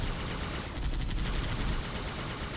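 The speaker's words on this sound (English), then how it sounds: "Taking a lot of fire there." Gunfire in the Halo video game during a Marine raid on a Covenant base, a steady dense wash of rapid shots and automatic fire at a constant middling level, alone without talk.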